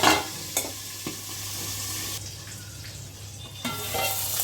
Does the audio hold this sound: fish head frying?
yes